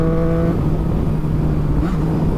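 A Triumph Street Triple R motorcycle pulls hard in 6th gear at about 60 mph and 5,000 RPM, its engine a steady, loud drone with a low harmonic hum throughout and slight rising tone near the end.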